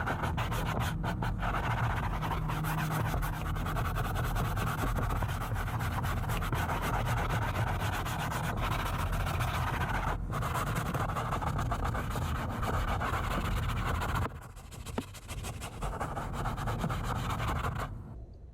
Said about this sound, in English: I'm going to take my soft bristle brush and agitate the solution on the seat.